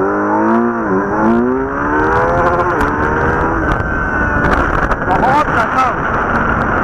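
A BS6 Kawasaki Z900 motorcycle accelerates in sports mode, its engine pitch climbing through rising gear sweeps beneath heavy rushing wind noise, recorded close from the rider's position.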